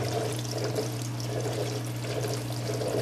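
Water runs steadily through the wet/dry filter of a 90-gallon aquarium, a continuous pouring trickle over a low pump hum, close and even throughout.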